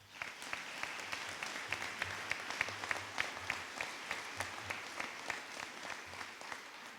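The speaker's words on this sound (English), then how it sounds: "please join me in a warm round of applause for those men and women" Audience applause at a VA clinic ribbon cutting ceremony in Huntsville, a sustained round of fairly distant clapping from a modest crowd with a few sharper individual claps.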